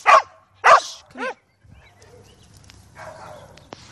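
A dog close by gives three loud barks in quick succession, the last one higher and yelping, followed by quieter rustling and low background noise outdoors.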